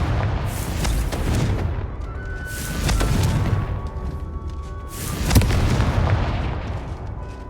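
Confringo blasting spell in a Harry Potter video game, a series of booming explosive bursts and rumbling blasts repeating every second or two, loud and close with no talk.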